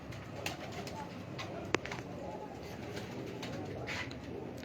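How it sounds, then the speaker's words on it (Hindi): Pigeons coo softly in short, repeated throaty calls over a steady hiss of background noise, with a faint voice murmuring now and then. "ये जी कबूतर है जी माशाल्लाह"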